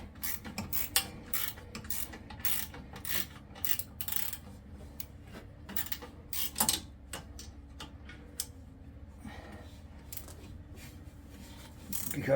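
A ratchet tightening bolts on the dust plates of an old Volkswagen, a close, quick run of sharp clicking ticks in uneven bursts with brief pauses over a quiet background.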